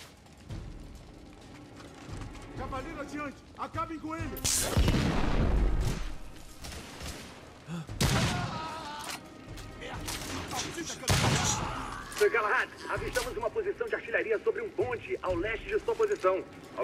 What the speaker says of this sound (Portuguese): é um canhão portátil